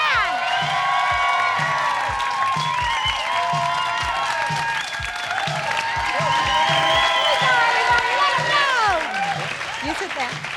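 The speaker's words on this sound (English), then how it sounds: "how about a big rousing round of applause for the very talented Enrico Colantoni," Studio audience at a late-night NBC talk show breaks into loud, sustained applause and cheering, with whoops rising over dense clapping throughout; music plays underneath the crowd noise.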